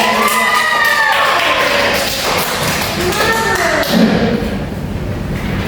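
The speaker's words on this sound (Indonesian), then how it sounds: "Tepuk tangan untuk Dinda." Classroom applause during a microteaching practice lesson, a loud steady patter of clapping from a group of students lasting several seconds, with children's voices mixed in.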